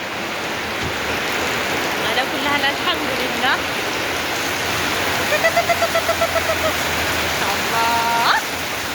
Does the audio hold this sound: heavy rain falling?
yes